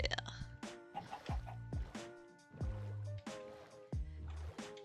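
Minecraft chickens cluck in short, repeated bursts in the game, with splashy boat and water sounds between them and no talking.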